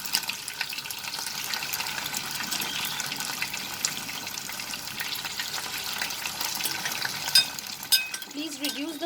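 Prawns frying in hot oil in a pan, a steady close sizzle and crackle with a few small clinks near the end, no speech.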